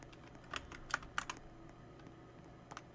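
Computer keyboard typing while playing Roblox: a handful of quiet, crisp keystrokes clustered in the first half, then a couple of faint taps near the end over a low background hum.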